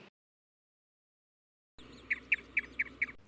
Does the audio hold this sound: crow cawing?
yes